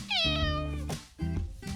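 A cat gives three close, clear meows, the first long and drawn out, the next two shorter, with nothing else heard around them.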